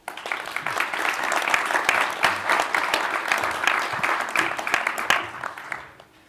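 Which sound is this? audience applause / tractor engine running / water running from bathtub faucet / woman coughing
audience applause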